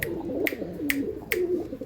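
Racing pigeons cooing close by, low throaty rolling coos repeating in a slow loose rhythm, with a few sharp high clicks or chirps punctuating them.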